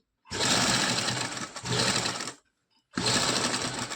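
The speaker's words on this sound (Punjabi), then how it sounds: "ਬਿਲਕੁਲ ਕਿਨਾਰੇ ਤੇ ਆ ਕੇ ਸਲਾਈ ਕੱਢ ਦਾਂਗੇ" Sewing machine stitching a kurta button placket, a close, loud mechanical whir in two bursts, a short pause, then a third burst starting up.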